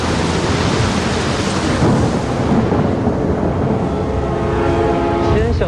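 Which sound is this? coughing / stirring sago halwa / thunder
thunder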